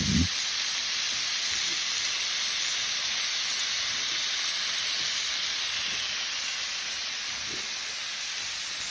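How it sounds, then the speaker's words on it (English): Chopped cheese sandwich meat sizzling on a hot griddle, a steady, loud, close hiss that runs unbroken throughout with no talking. "we're going to let it cook for a little while."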